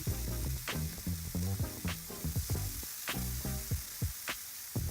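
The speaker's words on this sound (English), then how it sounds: "I'm gonna add all the chicken at the same time so I know that they will cook evenly and at the same time." Pieces of chicken hit a hot pan and sizzle loudly, with crackling frying bursts and bumps of stirring recurring through the stretch, close up and without speech.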